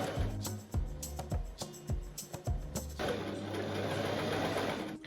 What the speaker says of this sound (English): And I use a zigzag stitch